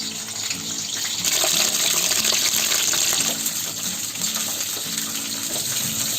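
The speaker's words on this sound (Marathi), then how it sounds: "आता आपलं इथे तेल गरम झालंय. त्याच्यामध्ये आता मी फ्लावर तळून घेते." Cauliflower florets frying in hot oil, a steady close sizzle and crackle with a watery hiss running continuously throughout, no voices.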